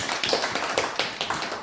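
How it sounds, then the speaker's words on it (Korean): A church congregation claps hands during a worship service, a loud, fast run of sharp claps in close succession with no talking over it. "예배 시간이지만 오늘은 한번 박수 쳐야 될 것 같아요."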